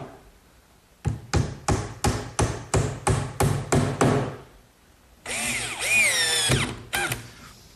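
A power drill bores holes into oak, a run of about eight short, sharp whirring bursts in steady rhythm, followed by a longer rising and falling drill whine as a screw is driven, all close and clear.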